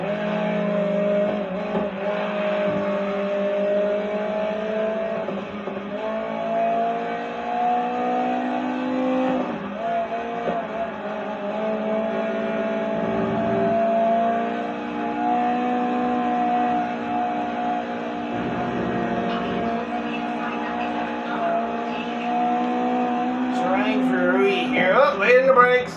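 Classic touring race cars run in the video game GRID Legends, a continuous close engine drone with rising and falling revs through gear changes, which grows louder and rougher near the end.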